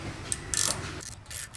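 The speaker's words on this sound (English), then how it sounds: "we're just gonna tap this little hole" Hand tap cutting threads into a small hole while fitting an XC Gear Mako 360 boat dashboard, making a close, brief ratcheting scrape with a few clicks, no voices.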